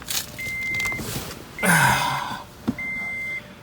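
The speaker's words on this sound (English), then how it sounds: "You can hear that beeping noise. I guess that means the battery's dead." Two steady high-pitched electronic warning beeps from a 2011 Toyota Prius with a dead battery, each about half a second long, sound over engine-like rumble and a burst of mechanical whirring in between.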